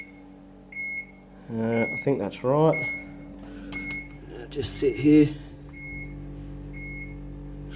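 Short electronic beeps from a Samsung fridge's control panel during a defrost reset, a few spaced tones over a low hum, with a person talking quietly nearby.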